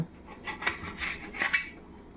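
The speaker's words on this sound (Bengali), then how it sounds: "আমি মশলা তৈরির জন্য গ্রেভিটা তৈরির জন্য কিছু টমেটো কেটে নেব" A kitchen knife slices through tomatoes for a gravy in a few quick, close scraping strokes against the board, with no talking.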